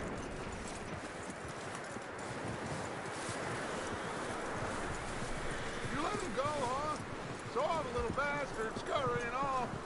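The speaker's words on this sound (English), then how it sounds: "That looks like a decent horse." Horse hooves clip-clopping in a steady rhythm nearby, with a voice rising briefly over the hoofbeats toward the end.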